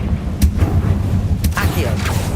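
A Confringo spell detonates in Hogwarts Legacy, a couple of short, sharp blasts with a rumbling low-end boom beneath steady game ambience.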